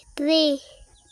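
One short, loud, close call from a chicken, a harmonic squawk lasting about half a second against quiet surroundings.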